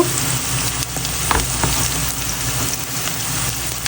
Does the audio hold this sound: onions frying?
yes